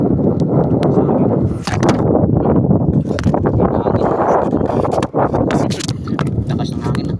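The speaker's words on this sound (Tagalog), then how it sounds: "Lakas ng hangin na." Strong outdoor wind buffeting the microphone during a casual snack of saba bananas and chili, a loud continuous low rumble with gusty surges and brief dips, mixed with faint background sounds.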